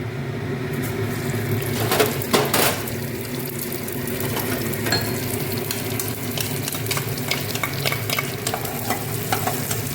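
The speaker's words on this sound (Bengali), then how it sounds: "চালটাও ভেজে রেখেছি, গোবিন্দভোগ চাল, তাও একটু ফোড়নের সাথে ভেজে নিলাম" Constant sizzling and stirring of Gobindobhog rice frying in tempering oil, with scraping of a spoon against the pan and occasional louder scrapes.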